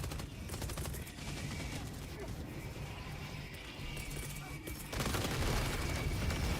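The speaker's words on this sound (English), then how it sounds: "Throwing grenade." Heavy continuous battle noise in Helldivers 2, dense gunfire and rumbling with a louder grenade-like blast surge near the end, filling the whole clip.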